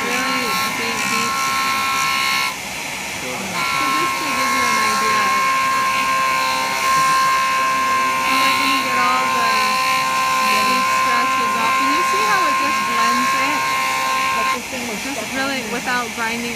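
A Jooltool polishes a meteorite with a 3M unitized abrasive, producing a steady whirring motor hum and abrasive hiss throughout, close and loud, while someone talks over it.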